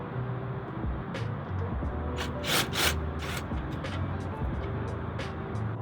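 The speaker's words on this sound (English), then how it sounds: "You're gonna need a 12mm socket to remove the brake line." A 12mm socket works loose a brake line fitting on an FRS during CV axle replacement. It gives a few scattered scraping and clicking bursts, the loudest in the middle, over a low, steady background hum.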